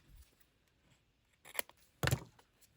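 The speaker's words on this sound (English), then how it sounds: "I want to cut the top off" Scissors snipping the top off a paper junk journal craft piece for a Halloween tab, two quiet close cuts in quick succession after a near-silent pause.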